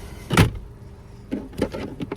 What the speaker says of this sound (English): Then you can just get the glove box door, close it